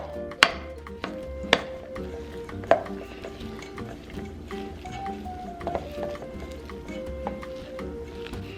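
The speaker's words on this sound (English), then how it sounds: "Give that a good mix." Clinks and scrapes of a utensil in a bowl stirring a chicken taquito filling mixture with meat, soft irregular stirring, a few sharper knocks early on, no talking.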